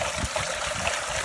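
Pumpkin seeds are swished around in water inside a colander, giving a continuous close sloshing and trickling with small gurgles and no speech.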